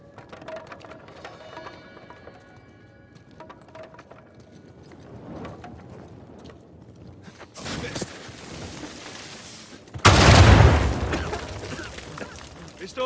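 A loud, close explosion bursts out in Uncharted 4 inside a collapsing underground passage, preceded by quieter mechanical clicking and rumbling, with a rushing wave of debris noise just before the main blast.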